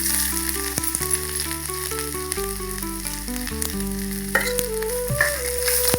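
Curry leaves, ginger and raw mango frying in oil in a pan, a steady close sizzle and crackle throughout, with a humming tone running underneath.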